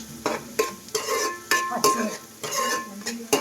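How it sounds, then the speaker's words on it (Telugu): Onions being stirred into hot oil for a Telangana-style chicken curry, with repeated scraping strokes of a spoon against the pot over a soft sizzle, close and steady, no one talking. "ఆయిల్ తర్వాత ఉల్లిపాయలు వేసుకోవాలి"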